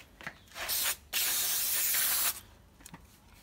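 Carburetor cleaner sprays from an aerosol can onto a motocross air filter holder from a KTM SX or Husqvarna 50cc bike, in one long close hissing burst flanked by a few shorter spurts.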